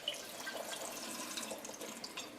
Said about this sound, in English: I'm going to do one more rinse just because it's a good idea to really rinse them.